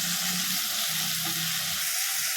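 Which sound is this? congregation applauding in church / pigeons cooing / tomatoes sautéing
tomatoes sautéing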